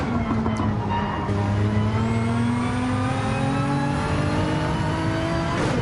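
A race car engine in a racing video game holds a loud, close, steady howl, with its pitch climbing smoothly through the gears for several seconds without a break.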